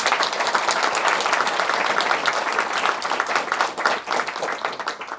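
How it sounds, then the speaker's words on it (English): A live audience at a presentation event gives a big, loud round of applause, dense continuous clapping that thins and fades toward the end. "It's a big round of applause."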